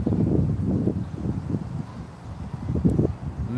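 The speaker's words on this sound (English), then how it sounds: "It's windy over here, man." Gusty wind buffets the microphone, producing an uneven low rumbling roar that swells and dips throughout.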